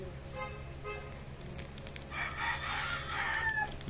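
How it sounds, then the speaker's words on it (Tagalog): A rooster crows once, loud and drawn out, over faint steady background hum and a few soft earlier calls. "Meron pang sound ng manok."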